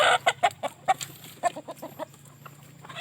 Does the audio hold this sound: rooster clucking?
yes